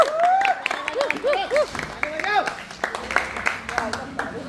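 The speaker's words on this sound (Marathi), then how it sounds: "टाळ्या वाजवा" Crowd clapping at a Ganpati Pat Puja ceremony for a mandal's 75th year, rhythmic hand claps under loud shouted chanting voices that dominate the scene.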